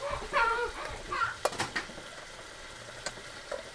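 Egg curry masala sizzling and being stirred in a pan as tomatoes, green chilies and dry spices go in, with soft frying hiss, a few sharp utensil clinks and faint background talk.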